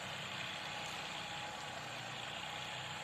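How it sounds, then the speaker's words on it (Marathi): A tractor ploughing a field drones steadily at a distance, a low continuous rumble with no voices. "शेजारच्या शेतामध्ये धनुभावांचा ट्रॅक्टर चाललाय नांगरट चालली"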